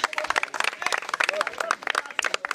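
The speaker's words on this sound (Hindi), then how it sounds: "जोरदार तालियां" A crowd at a public speech claps loudly in bursts, the clapping mixed with a speaker's voice talking over it.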